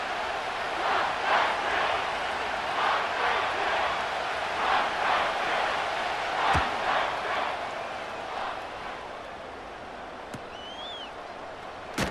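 A hostile stadium crowd in the Madden NFL 25 video game swells in rhythmic waves of roaring and chanting, then eases into a steadier, quieter murmur toward the end.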